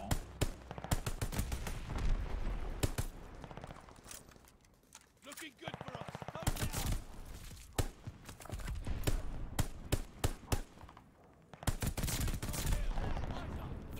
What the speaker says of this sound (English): Especially when you're shooting at this distance.